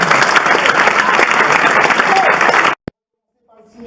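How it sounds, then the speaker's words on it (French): An audience at a television channel's press conference bursts into loud, dense applause with crowd noise, sustained for nearly three seconds before cutting off abruptly, followed by a brief knock and faint murmuring. "Je vous applaudis."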